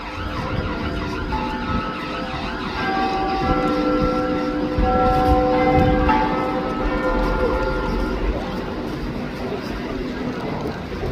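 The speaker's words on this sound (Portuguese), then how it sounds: "O carrilhão das 4 horas da tarde, né?" Clock bells in London ring the 4 pm chime. The tones ring out steady and fairly loud over busy street traffic and murmuring voices.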